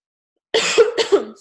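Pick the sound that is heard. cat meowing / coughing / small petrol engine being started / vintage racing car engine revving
coughing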